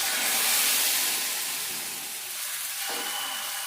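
Sago dosa batter hisses and sizzles steadily on a hot pan, a close, even frying sound with no talk, easing slightly after the first second.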